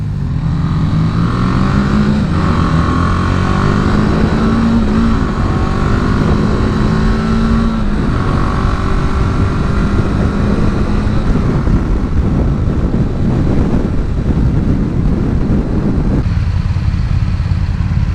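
A BMW G 310 GS single-cylinder 313 cc motorcycle is ridden, its engine note rising and falling through gear changes and revs, loud and close with steady wind rush throughout and no talk.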